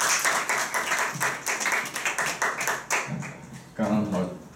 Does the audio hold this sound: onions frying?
no